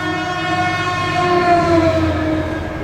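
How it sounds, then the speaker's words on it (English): Near a house, a train passes close by, with a loud steady rumble and sustained tonal horn-like harmonics that swell midway and ease slightly toward the end, with no talking. "I live next to a train, so you're about to hear"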